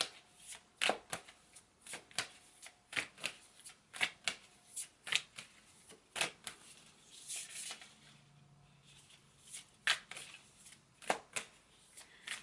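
Tarot cards being shuffled by hand, a run of crisp riffling bursts and soft flicks repeating irregularly throughout, close and fairly quiet with no talking.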